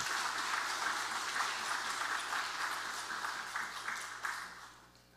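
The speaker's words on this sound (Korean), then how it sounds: "박수 한번 해주시죠." Sunday service congregation applauding the deaconesses who served the offering, a full, steady round of clapping in a large room that holds level and then tapers off at the end.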